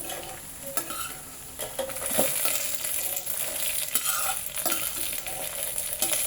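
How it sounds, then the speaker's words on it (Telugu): Ingredients for a chutney crackle and sizzle in hot oil in a pan while being stirred, with repeated scraping strokes and soft clinks over a steady frying hiss. "ఇవి బాగా వేగిపోయినాయండి"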